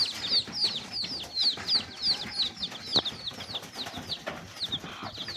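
Pigeons pecking at wheat and rice grain, heard as repeated sharp pecks and soft cooing or clucking calls in close succession, with bird chirps layered throughout at moderate loudness.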